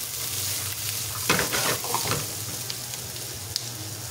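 Milkfish browning in a hot pan for paksiw na bangus, a steady close sizzle with a few brief scrapes and stirring sounds rising over the continuous frying hiss.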